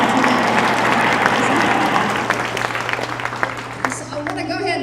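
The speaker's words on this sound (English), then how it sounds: "So let's give ourselves a big round of applause." Dense applause from a YMCA all-staff gathering, a crowd clapping loudly and continuously before thinning out toward the end, with voices mixed in.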